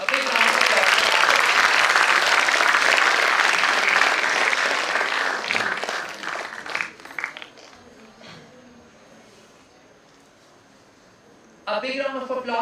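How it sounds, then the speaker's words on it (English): Audience applause at an award ceremony for a criminal justice research cell: loud sustained clapping for about six seconds, tapering off into quiet room murmur, then a fresh burst of clapping near the end. "A big round of applause for that."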